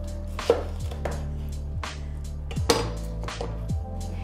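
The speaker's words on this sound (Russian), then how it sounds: "Срезаем низ." A knife slices through the base of a pineapple on a cutting board: several sharp chopping knocks at an uneven pace, close and fairly loud, with a low steady hum beneath and no talking.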